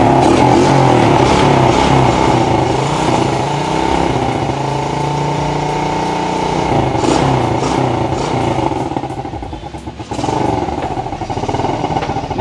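A Yamaha Vega ZR motorcycle engine, set up for racing with its air filter removed, revs loudly and steadily up close, its tone rising and dipping with the throttle and no talk over it.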